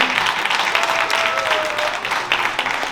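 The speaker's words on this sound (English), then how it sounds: "Let's give another round of applause to our presenter." A crowd at a homeownership information evening applauds its presenter with a thick, even wash of clapping, close and continuous for a few seconds.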